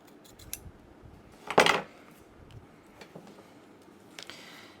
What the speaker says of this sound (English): I'm gonna cut the edges off.